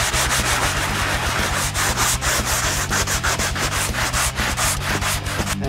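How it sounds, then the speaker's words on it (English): Rapid, rhythmic scratchy rubbing of 60-grit sandpaper on a wooden skimboard, strokes repeating back and forth at a steady pace, close and continuous without any talking. "I'll do some light sanding with the 60 grit on top of the board."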